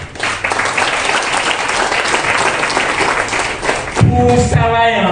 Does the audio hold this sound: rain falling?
no